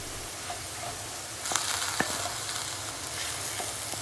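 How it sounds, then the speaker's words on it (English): Minced pork sizzles steadily in a hot pan, with occasional scrapes and taps of a utensil stirring it. "I have to take my time frying the minced pork"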